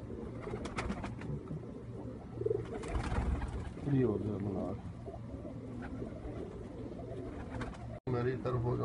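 Pigeons coo in low, repeated murmurs close by, with someone talking over much of it and a brief dropout near the end.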